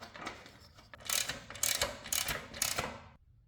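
Bolts on an OutFitR hitch bike rack are tightened with a ratchet wrench, giving quick clicking ratchet bursts that grow into four louder rhythmic strokes, close and crisp, with no talk.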